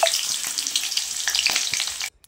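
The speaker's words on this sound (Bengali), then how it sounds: "বাঁধাকপির তরকারির জন্য ফোড়ন দিয়ে দিয়েছি।" Whole spices tempering in hot oil for a cabbage curry, a bright crackling sizzle with scattered pops and a few stirring knocks, close, cutting off abruptly near the end.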